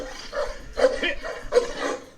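A large dog, a Presa Canario, gives a few loud, close barks in quick succession, roughly three separate bursts with short gaps between them.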